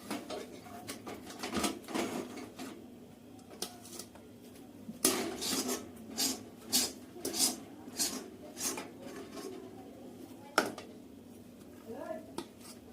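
Sticky date burfi mixture scraped and pressed against a metal plate with a spoon, giving a run of clinking and scraping knocks at an uneven rhythm, close and moderately loud.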